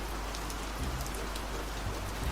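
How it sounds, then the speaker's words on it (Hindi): Steady rain falling and pattering on surfaces, a dense even hiss of drops with occasional low rumbles beneath, heard alone without voices. "बारिश की बरसती बूंदों में सन्नाटे की एक लहर थी।"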